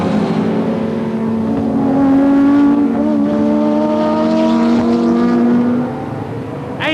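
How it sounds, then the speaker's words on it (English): 1988 British Touring Car Championship racing with a Nissan and a Ford Cosworth: loud, steady engine drone with strong harmonic whine holding pitch, then easing off slightly near the end, close to the track with no talk. "And Grice is closing right up on the Cosworth now."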